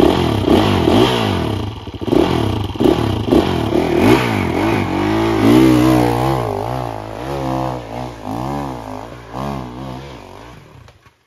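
Off-road motorcycle climbing a soft, loose hill on the NAKAO off-road course, its engine revving hard and loud up close, pitch sweeping up and down with throttle blips over about eleven seconds.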